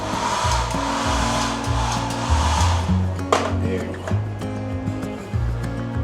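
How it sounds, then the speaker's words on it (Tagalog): A working hair dryer in a hotel bathroom at Hotel 101 Fort in BGC blows with a steady broadband whoosh close by, while a voice talks over it almost throughout. "Meron siyang working blower."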